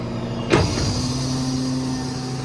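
Hydraulics whine steadily on a 2019 International MV607 crane truck as its outriggers move up and down, a close, sustained mechanical hum with a short brief burst near the start and no talk.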